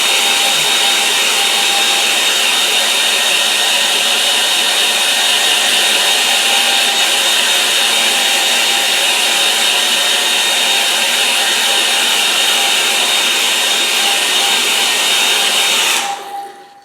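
A hair dryer blows steadily at close range over a wet watercolour painting, a loud, constant whooshing roar that holds for about sixteen seconds before cutting off abruptly.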